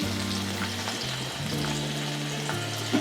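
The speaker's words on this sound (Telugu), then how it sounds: "ఇలా వెల్లుల్లిపాయలు వేసుకొని వేయించుకోవాలి బ్రౌన్ కలర్ వచ్చేంత వరకు." Garlic and onions frying in a pan for spinach curry give a steady close sizzle with light stirring, alone without speech, under a low tonal hum.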